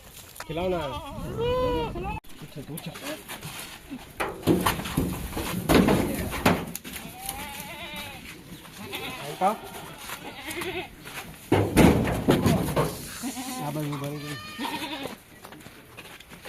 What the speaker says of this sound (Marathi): या शेळ्या आता जमा झालेल्या आहे